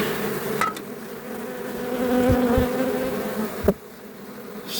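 Honeybees buzz steadily at a hive being smoked during a swarm-prevention check, a dense, continuous drone with a few sharper bumps and knocks, no voices.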